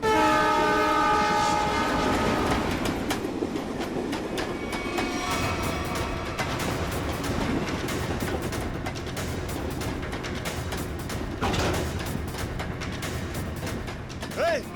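A train approaches a station, its horn sounding in long tones near the start over a steady rumble and clatter of the moving carriages, continuous and fairly loud throughout.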